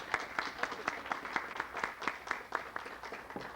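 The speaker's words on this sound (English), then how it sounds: "I want to give you a round of applause." An audience at a grant announcement claps in a steady, moderate round of applause, with individual hand claps distinct in the mix and no voices over it.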